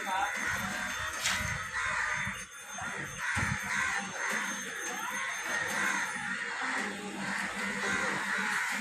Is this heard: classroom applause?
no